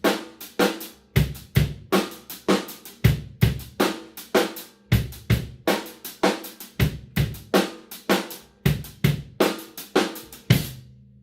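Drum kit playing a galloping pattern in a five meter, grouped in three sixteenth notes, with steady repeating hits of kick, snare and cymbal, close and loud, no talking.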